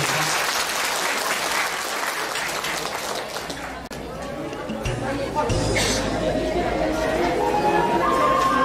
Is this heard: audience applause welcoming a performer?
yes